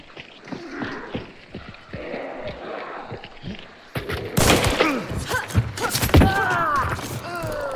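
Rapid bursts of pistol gunfire in a video game battle, loud and sharp, clustered in the second half over a busy, noisy game background.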